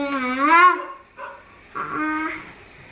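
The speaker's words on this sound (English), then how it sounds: "Our dog is up there barking like crazy at a squirrel." A dog barks excitedly at a squirrel from up above outdoors, giving a few yelping, whining barks that come across as moderately loud and a little distant, with brief pauses in between.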